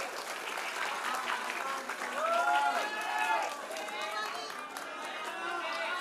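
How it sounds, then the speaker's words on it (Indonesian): A crowd at a public Q&A session in Pontianak breaks into sustained applause, steady dense clapping with cheers and chatter mixed in, while voices carry over the top. "Kita tepuk tangan dulu dong untuk Bang Kava."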